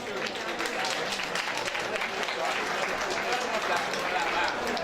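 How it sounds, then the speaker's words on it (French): Guests at a gala evening applaud themselves, a dense, sustained crowd clapping that stays even and fairly loud throughout, with murmuring voices blended in. "to applaud yourselves this evening."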